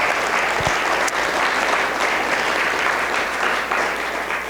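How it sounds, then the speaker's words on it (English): Audience applause after a faith-themed presentation at a Jesuit spiritual center, steady dense clapping that fills the whole stretch at a fairly close, even level. "Please give him another round of applause"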